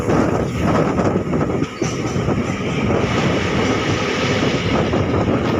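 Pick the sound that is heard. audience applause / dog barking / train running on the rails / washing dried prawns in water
train running on the rails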